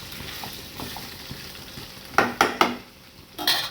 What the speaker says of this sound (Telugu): గోరు చిక్కులు వేసి బాగా వేగనివ్వాలి.